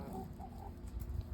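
A backyard hen clucking softly at close range, low throaty calls repeating in an uneven rhythm among other chickens, with no talk over it.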